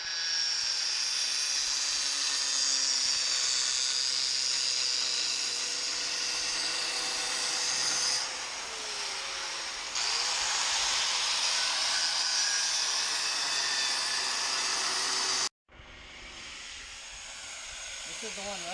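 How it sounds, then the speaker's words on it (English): A drill bores a center hole in a leaf spring part during a rear leaf spring conversion for a 1999-2007 Powerstroke truck, a loud continuous high whine that dips briefly and cuts out near the end. "So I guess you got to drill a center hole and then these three?"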